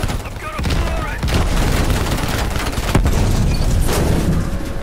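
Sustained bursts of gunfire and booming explosions fill the Black Ops Cold War battle, rapid shots layered over a loud, dense background with no clear voice.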